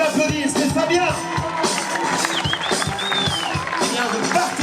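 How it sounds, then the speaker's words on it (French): Audience at an outdoor summer festival show at Pairi Daiza applauds a young man in a beret, steady crowd clapping with scattered whoops and voices over music. "On peut l'applaudir, c'est Fabien."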